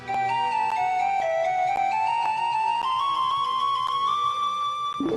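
A bright, breathy flute melody from the game Virtual Hydlide plays continuously in a retro game style, sustained notes sliding slowly upward over a steady plucky accompaniment, with no voices.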